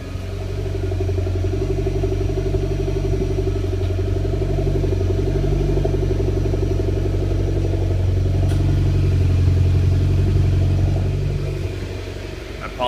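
A 2015 Mitsubishi Evo X fitted with a Cobb oval catback exhaust idles and runs up with a deep, steady, close rumble that swells slightly midway before easing off, no voices over it.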